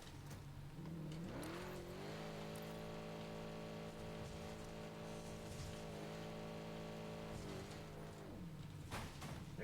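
A car in Helldivers 2 revs up and accelerates away, with a sustained rising then steady engine whine holding for several seconds before dropping off, over rain-like game ambience.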